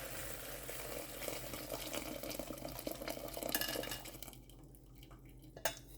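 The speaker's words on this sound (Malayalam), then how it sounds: "ചക്കര പാനി ഒഴിക്കാം, അരിച്ചൊഴിക്കാം." Jaggery syrup strained and poured into a pot of washed rice for uluva kanji, with a steady liquid pour and clinks of metal utensils, then a quieter stretch and one sharp clank near the end.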